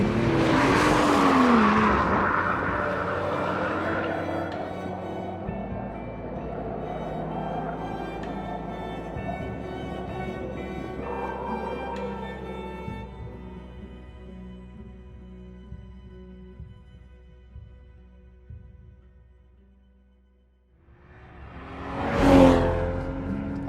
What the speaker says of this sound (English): Thomas is blowing a lot of smoke, and he's in an M2.